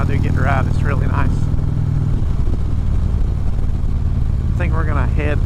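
A 2014 Harley-Davidson Ultra Classic motorcycle engine rumbles steadily while riding, a constant low throb with road and wind noise, as someone talks briefly over it at the start and end.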